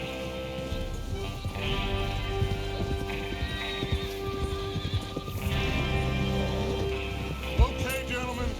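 Horses gallop in Red Dead Redemption 2, a steady drumming of hooves under a continuous musical score, with a brief whinny and a sharp thump near the end.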